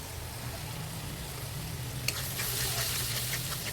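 Masala with tomato puree sautéing in a pan for matar paneer, a steady soft sizzle under room hum that brightens and grows louder partway through as the mixture is stirred, no voices.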